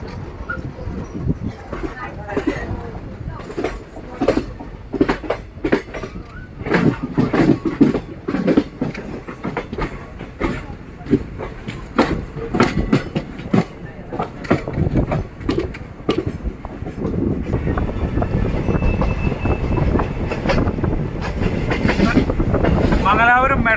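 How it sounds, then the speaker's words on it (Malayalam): A train crosses points onto platform one, its wheels clacking in irregular loud bursts over a rumbling roll that swells toward the end, with a voice talking now and then. "ഒന്നാമത്തെ പ്ലാറ്റ്ഫോമിലേക്കാണ് ഇപ്പം ട്രെയിൻ മാറി കയറുന്നത് ട്രാക്ക് മാറി പോകുന്നത് കണ്ടോ"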